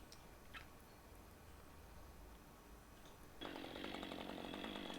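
A chainsaw starts cutting into a tree during felling, a faint distant drone that suddenly rises to a steady, louder buzzing whine partway through, with no talking.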